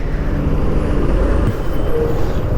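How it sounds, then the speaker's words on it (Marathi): Loud, constant road traffic rumble on the Mumbai–Goa highway between Panvel and Kolad, with heavy engines droning close by and a brief hiss of air brakes. "ट्रॅफिकच ट्रॅफिक आहे भाई"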